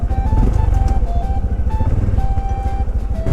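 A Honda CT125 Hunter Cub motorcycle, fitted with a shift guide, rides along a paved forest road among autumn leaves. Its engine holds a loud, steady, low rhythmic drone close by throughout, with no talk.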